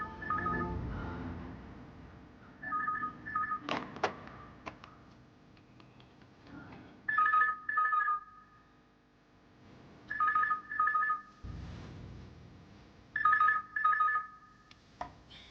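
A telephone rings in repeated double bursts, with quiet gaps between rings and some faint clicks and background noise.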